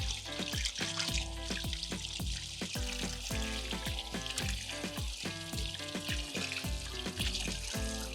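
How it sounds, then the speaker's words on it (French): Peeled potatoes are rinsed under running water, with a steady hiss of flowing water and rhythmic, knocking clatters of the potatoes being moved. The sounds are close and dense throughout, with no voices. "je les rince une première fois"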